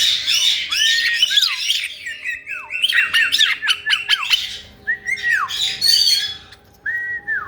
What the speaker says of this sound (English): Hello, Spicy Bird.